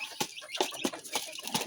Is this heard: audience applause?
no